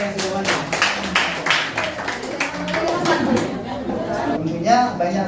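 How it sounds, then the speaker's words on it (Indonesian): A short round of hand clapping from a small group in a classroom after a group presentation, sharp and close, tapering off as voices chatter. "Tepuk tangan dulu untuk kelompok yang sudah maju."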